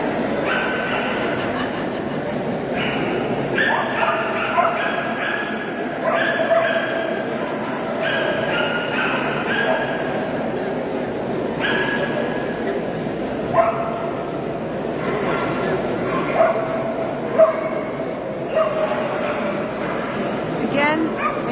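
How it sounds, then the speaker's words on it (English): Cairn Terrier puppies bark, yip and whimper in quick bursts throughout a terrier show ring, moderately close, while a commentator talks over them almost continuously. "We now have the Cairn Terrier puppy by Mrs. S.E. Dolan, number 32-8."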